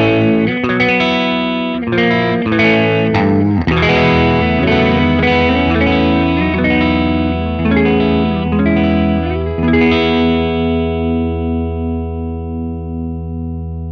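An Italia Maranello Speedster 2 korina electric guitar in its in-between pickup position plays a string of picked chords and notes through effects with mild distortion and chorus, loud and close, ending on a long sustained, wavering chord.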